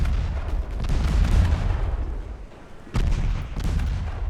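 Torpedo launch from the light cruiser Cassard in a naval warfare game, a heavy rumbling boom that rolls on, dips, then returns with a fresh sharp burst and continued low roar.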